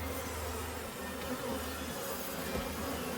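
Honey bees buzzing at a hive during a spring inspection, a dense, continuous swarm drone close by and fairly quiet, with no voices.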